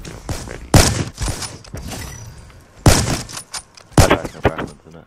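Gunfire in Call of Duty: Black Ops 3 during a 1v1 match, sharp separate bursts and single shots spaced irregularly, loud and close, with quieter clatter between.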